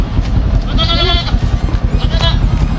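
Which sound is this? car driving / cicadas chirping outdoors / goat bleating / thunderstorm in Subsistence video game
goat bleating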